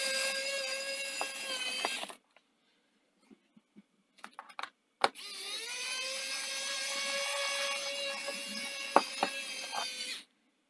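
A small powered screwdriver whirs in two long bursts as thin screws come out of a Lenovo Ideapad Z500 laptop, separated by a pause with light clicks and taps.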